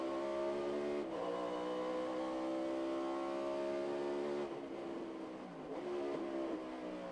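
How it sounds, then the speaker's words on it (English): NASCAR race car engines at a 1997 Topeka road-course race, a steady loud droning whine that drops in pitch as the cars downshift into turn 10, with a second engine note overlapping. "Down that backstretch, headed into the left-hander, turn 10, downshifting"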